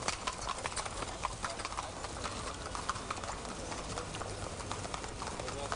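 A horse and buggy clip-clops through Vienna near the Hofburg, its hooves ringing in a steady, brisk rhythm on the street, with faint city noise behind.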